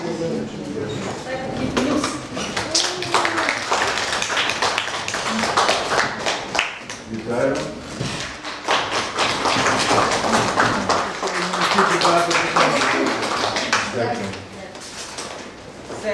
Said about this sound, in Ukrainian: активніше аплодуйте, це ж колеги ваші.